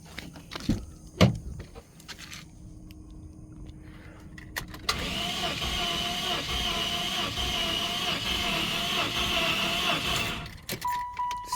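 1995 Cadillac Fleetwood Federal Coach hearse engine cranking on the starter without firing: a steady, loud, droning whir held for several seconds after a few clicks and clunks, then cutting off.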